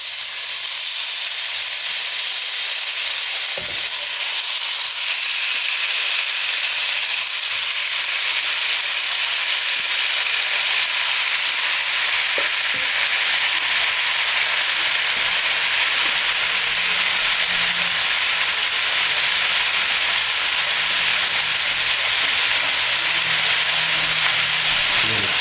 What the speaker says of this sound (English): So now we're going to go ahead and let our meat saute and let it get nice and brown